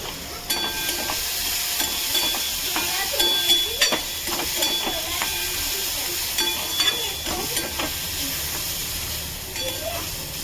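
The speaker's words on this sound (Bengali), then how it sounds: "তখন এটা ভাজা হোক" Washed oats frying gently in a pan over low heat give a continuous hissing sizzle, broken by scattered clinks and scraping stirs at close range.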